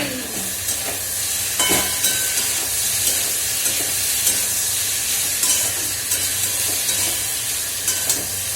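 Potatoes frying in a pan with a continuous sizzle and hiss, broken by repeated scraping clinks of stirring at irregular intervals.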